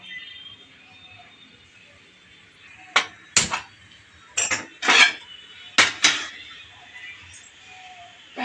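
A metal pan set down on a home kitchen stove while cooking fish curry gives a few sharp clanks and knocks in quick clusters over a low background hum, with no talking.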